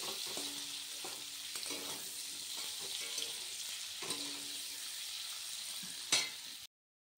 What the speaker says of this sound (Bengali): এখানে হচ্ছে জিরে, শুকনো লঙ্কা, তেজপাতা ফোড়ন দিয়েছি